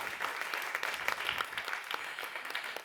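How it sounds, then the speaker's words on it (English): An audience at an impact entrepreneurship forum applauds a speaker, with dense, fairly quiet clapping that has sharp individual claps poking through a sustained wash, alone without talk. "Let's give a huge round of applause to Felipe."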